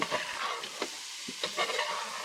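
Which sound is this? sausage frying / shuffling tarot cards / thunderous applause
sausage frying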